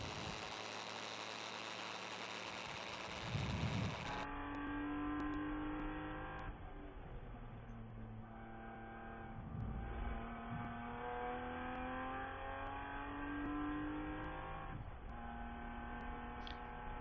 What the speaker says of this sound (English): The car is back on the racetrack, turning laps, put on a good show, and a solid effort today to keep that Miata on the racetrack